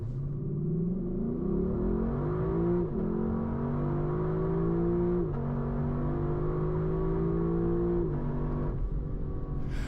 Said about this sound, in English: revving the motor all the way up to the red line at 7300 RPM is an unforgettable experience